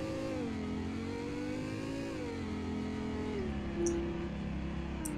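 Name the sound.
Lexus LFA engine revving, titanium exhaust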